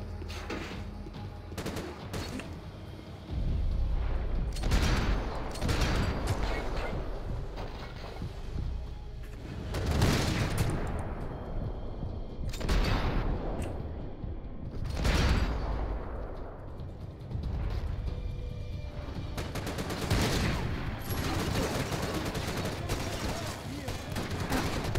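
Heavy gunfire from the video game Max Payne 3 comes in loud bursts and sharp single shots, some with booming low impacts, running almost continuously over a dense game soundscape.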